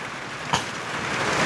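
Steady rain from a storm hisses faintly and evenly on the surfaces around a house, with one brief splash or knock partway through.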